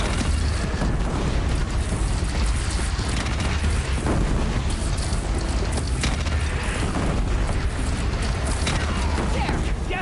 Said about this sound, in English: Death Bringer fire incoming!